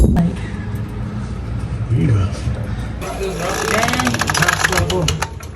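An engine idles and sputters close by, starting rough and then running steadily, with people talking over it.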